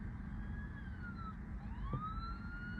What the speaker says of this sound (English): Police car coming behind us.